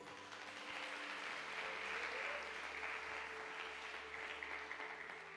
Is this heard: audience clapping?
yes